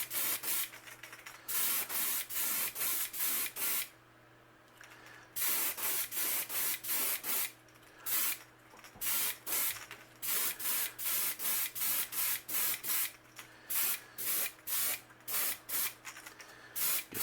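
Airbrush spraying Titan buff paint onto a crankbait, a close, loud hissing spray in repeated short bursts with brief pauses between them, no talking.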